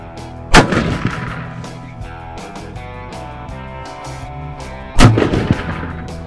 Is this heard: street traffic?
no